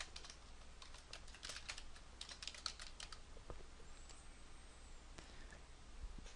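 Keys on a computer keyboard clatter in quick irregular bursts, close and fairly quiet, with short gaps and a few isolated clicks in a quiet room.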